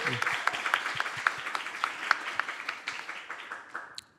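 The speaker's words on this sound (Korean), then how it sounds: "박수 부탁드리겠습니다." Scattered applause at a K-pop chart vision announcement ceremony, with distinct individual claps at first, then a thinner patter that fades out by the end.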